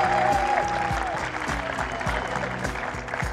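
An Egyptian crowd at a professional men's squash match applauds a spectacular shot with sustained, loud, dense clapping filling the arena, while a commentator talks excitedly over it.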